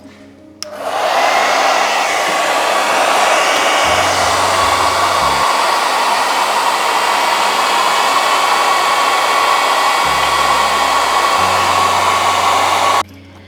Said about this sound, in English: Now we're going to turn on the hair dryer and the toaster to see what kind of power we get.